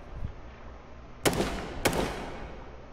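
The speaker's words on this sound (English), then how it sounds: "I never like hearing gunshots in this game" Two sharp, loud gunshots about half a second apart in the H1Z1 survival video game, each with a brief reverberant tail over quiet background.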